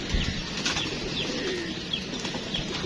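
A female pigeon flaps its wings close by in a loft, giving soft repeated fluttering bursts over a steady background hum with no talking.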